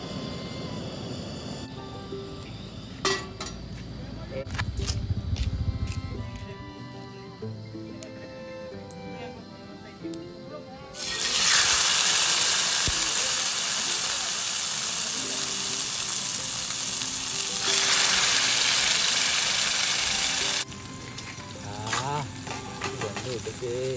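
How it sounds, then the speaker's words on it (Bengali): Marinated chicken frying in a pan at a forest campsite, a steady loud sizzle that swells sharply midway and holds for several seconds before easing, with some talk and stirring clatter around it. "এখন জাস্ট ফ্রাই করবো।"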